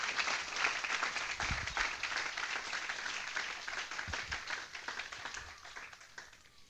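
Loud applause offered to the Lord in a church gathering, a sustained dense wash of many hands clapping from a crowd, steady and even, fading slightly toward the end, with no talk over it.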